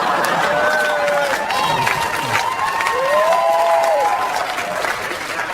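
A comedy club crowd claps and cheers in a dense, sustained wash of applause that carries on throughout, with scattered voices shouting over it.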